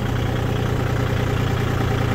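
A small Iseki TA240 tractor engine idles with a steady, even low rumble, close and continuous with no talk.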